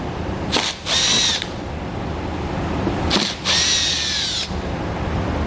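A power tool spins out T25 Torx bolts while a trailer hitch is fitted to a 2019 Alfa Romeo: two close whirring bursts, each about a second long, with quieter shop noise between them.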